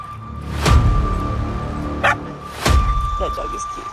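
Two or three sharp puppy barks stand out over steady talk and a faint tonal hum, the first near the start and the others a couple of seconds apart, loud and close.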